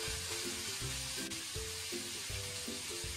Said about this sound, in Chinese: 然后烹入少许的料酒